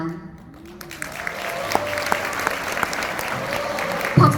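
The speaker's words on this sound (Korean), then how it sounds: "박수 나올 일 너무 많네요." Sustained applause from an audience at a convention, a steady wash of clapping that swells slightly toward the end, with a voice briefly heard near the close.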